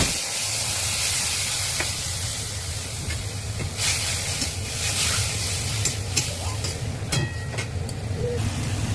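A bay leaf, white cumin and ground spice paste fry in a hot wok with a loud, continuous hiss and sizzle, broken by occasional sharp spatters and pops, close up and without talk.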